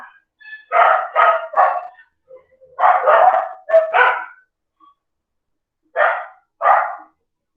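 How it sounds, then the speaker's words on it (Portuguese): Several dogs bark outside during an online statistics study-group meeting, with loud clustered bursts of barks separated by short pauses, fairly close and alone without talk over them. "Os cachorros estavam latindo aqui."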